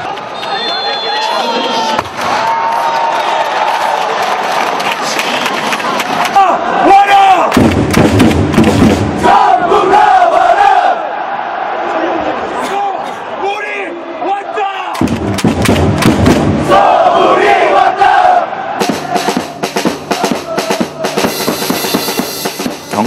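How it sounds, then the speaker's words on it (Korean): A stadium cheering squad shouts and pounds drums as the match begins, loud heavy thumping beats mixed with a roaring crowd of voices, continuous and close throughout. "시작과 함께 소리를 지르고 탐을 치는 응원단."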